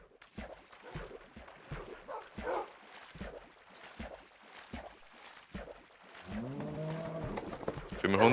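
Dogs barking in the video game Minecraft: a rapid run of repeated small yips and barks from several dogs, then a drawn-out whining, howling tone near the end, with players talking over it.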